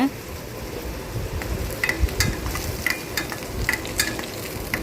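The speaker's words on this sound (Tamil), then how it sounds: "இப்போ தக்காளி சேர்த்துட்டு நல்லா கிளறி அப்புறம் கருவேப்பிலை எல்லாம் போட்டு நல்லா கிளறி எடுத்துக்கோங்க" Tomatoes and curry leaves sizzle in a pan for a stingray fish curry, a steady crackling fry close up, punctuated by scraping and tapping as a spoon stirs them.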